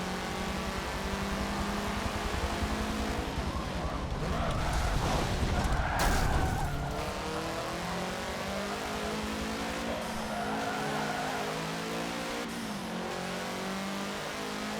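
Race car engine in Forza Motorsport 7 revving and accelerating hard and continuously, loud and steady throughout with a surge in the middle, during a showroom rally race.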